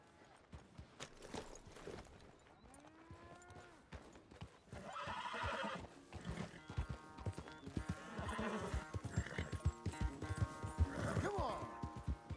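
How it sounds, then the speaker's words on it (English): In the video game Red Dead Redemption 2, hooves clip-clop at a steady pace and a horse whinnies loudly several times, with scuffling and thuds mixed in. "Where's that big, mean horse?"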